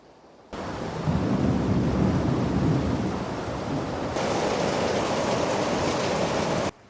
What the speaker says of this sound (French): le bruit de la pluie et de l'orage